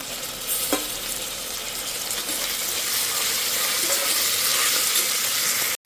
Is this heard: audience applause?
no